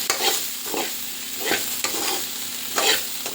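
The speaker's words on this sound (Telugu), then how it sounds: "కొత్తిమీర వేసుకున్నాక ఈ విధంగా కలుపుకోవాలి." Potatoes fried crisp with chopped coriander are stirred in a pan, each spoon stroke scraping in a steady rhythm of about one per second over a constant close sizzle, with no talk.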